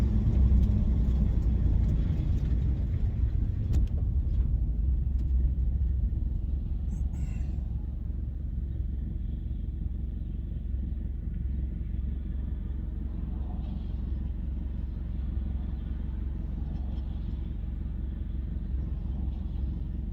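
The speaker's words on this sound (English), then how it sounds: "This turbo spools so quick." A turbocharged Scion FR-S engine with a TRD muffler drones and rumbles steadily up close while accelerating, a loud low roar that eases slightly in level after a few seconds, with no talking.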